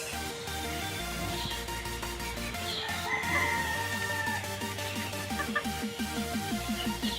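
Backyard chickens cluck and a rooster crows among them, a busy mix of repeated clucks and calls at moderate distance, steady over several seconds with no talking.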